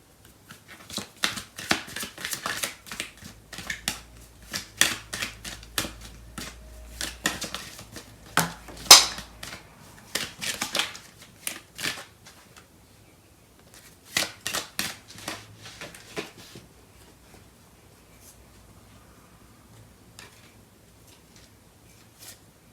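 Tarot cards being shuffled and handled, with bursts of quick papery riffling and flicks in clusters, pausing briefly and tapering off toward the end; close and fairly quiet, with no talking.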